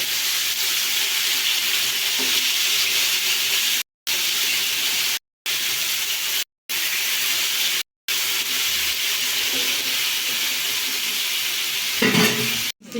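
Fish coated in semolina (rava) fries in a pan: a loud, steady, close sizzle and hiss runs throughout, broken by a few abrupt short gaps, with no talking.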